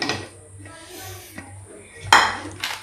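Mango and jackfruit pickle being mixed into a plate of oil, with a few light utensil clinks and scrapes against the plate and one sharper, louder knock near the end.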